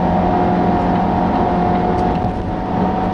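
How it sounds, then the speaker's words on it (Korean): A Volvo XC90 T6 engine hums steadily at close range while accelerating in dynamic mode, under loud, continuous road and wind noise, the pitch holding fairly even throughout. "엔진 소리 그렇게 크지 않고요"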